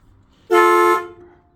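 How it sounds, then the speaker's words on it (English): Toy power truck horn gives one loud, close, bright electronic honk lasting about half a second, then fades into quiet. "that's the power honker, Okay. and you honk it like this."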